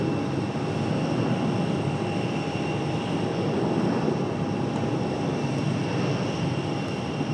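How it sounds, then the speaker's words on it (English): An American Eagle CRJ regional jet departs Raleigh-Durham International, its engines a steady, broad roar with a thin high whine, holding even and fairly close for the whole stretch without talk. "American Eagle CRJ headed out in this direction"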